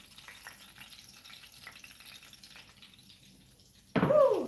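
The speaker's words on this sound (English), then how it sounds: "can you hear that sizzle?" Sausages roast in a hot pan for toad in the hole, giving a soft crackle. A loud, close burst of sizzling breaks in near the end.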